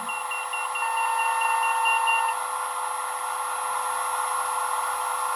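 A KVB safety system test in a French train cab gives a steady electronic tone for about two seconds over a constant cab hum, which continues alone afterwards.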